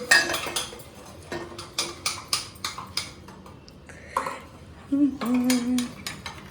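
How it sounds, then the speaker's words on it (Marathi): Batter is beaten in a bowl with quick, rhythmic clinking strokes of a utensil against the sides, then a brief pause and a final flurry of scraping taps. "असं एकदम मस्त फेटून घ्यायचं"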